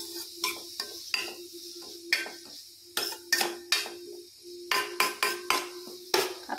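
Carrots for halwa frying in a pan while being stirred, with repeated close scraping and clinking strokes of a utensil against the pan in an uneven rhythm over a faint sizzle.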